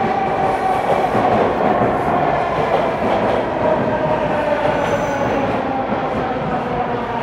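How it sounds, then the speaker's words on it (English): A Toronto subway train pulls into the Bloor Street platform connecting to Line 1, a loud continuous rumble of wheels and motors with faint rail clatter filling the station, no talk. "And here's the train."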